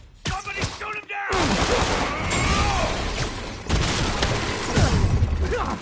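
Bursts of gunfire and heavy thuds in the video game Marvel's Spider-Man, loud and sustained, mixed with combat noise and a character's voice.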